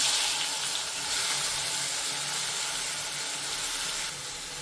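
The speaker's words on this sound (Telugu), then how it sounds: "ఈ టమాటాలని ఈ నూనెలో వేద్దాం." Finely chopped tomatoes dropped into hot oil give a loud, steady sizzle and hiss that carries on without a break, close up and with no voices.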